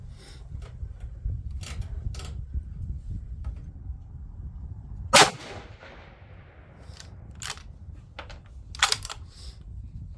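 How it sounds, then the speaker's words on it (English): A rifle fires 112gr Match Burner loads in the open: one sharp, loud crack midway, then a fainter, shorter report near the end, over steady low wind rumble. "as I'm just coming and shooting 5 shots"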